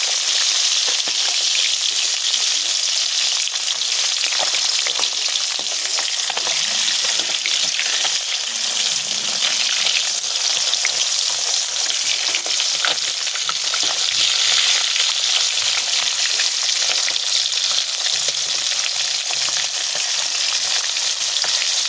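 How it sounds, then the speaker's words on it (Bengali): Lata fish frying in hot oil give a loud, dense, continuous sizzle with crackles, while a utensil scrapes and stirs them in the pan throughout, no voices present. "মাছগুলো আমি লাল লাল করে ভেজে নেব, একটু নাড়াচাড়া করে দেবো।"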